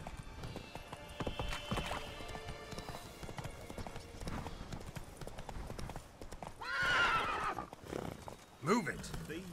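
Roach, Geralt's horse in The Witcher 3: Blood and Wine, gallops with a busy run of hoofbeats, then lets out a loud whinny and a short snort near the end as game music plays.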